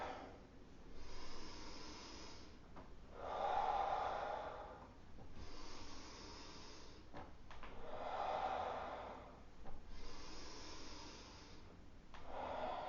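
Slow, deep breathing during a yoga strength and flexibility exercise: long audible inhales and exhales in a steady rhythm, close and fairly quiet, with no talking.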